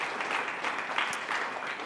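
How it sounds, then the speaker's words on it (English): An audience claps in steady, moderately faint applause, a dense patter of many hands lasting a couple of seconds without voices over it. "let's clap and give a thank you for all of the work"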